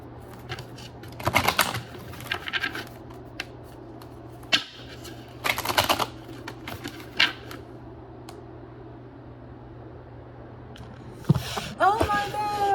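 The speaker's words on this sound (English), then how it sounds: "let me shuffle some cards here" A deck of cards is shuffled for a reading in a few short, close riffling bursts, with quieter handling clicks and taps between them in an otherwise quiet room.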